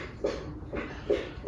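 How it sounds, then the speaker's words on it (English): A dog drinking water from a bowl, with four rhythmic lapping splashes spaced about a third of a second apart, close and moderately loud, no voices. "That's my dog getting a drink of water."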